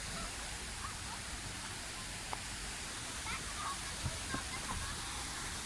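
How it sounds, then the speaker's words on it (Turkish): A waterfall near Afyonkarahisar, Turkey, heard as a steady broadband rushing hiss from a scenic overlook, continuous and even throughout, with a few faint clicks and soft sounds over it. "Şurada da şöyle bir Şelalemiz var."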